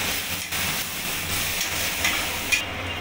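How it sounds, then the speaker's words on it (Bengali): Ground spices such as coriander, turmeric and garam masala sizzle in a pan for ghugni while being stirred, a steady close frying hiss broken by faint scrapes and clinks, with no talk. "এবার মশলাটাকে ভালো করে নাড়িয়ে নেব।"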